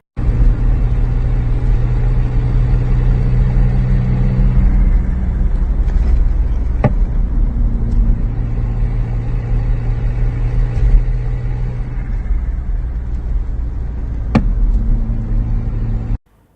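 A modified car engine gives a deep, steady rumble that drones for a long stretch, with a couple of sharp clicks, then cuts off abruptly at the end.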